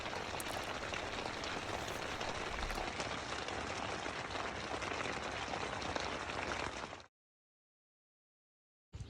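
Steady rain pouring during a storm at a campsite, a dense continuous hiss like drops drumming on a tent or cover, holding evenly for about seven seconds before cutting to silence.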